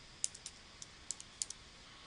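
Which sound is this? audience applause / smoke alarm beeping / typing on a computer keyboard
typing on a computer keyboard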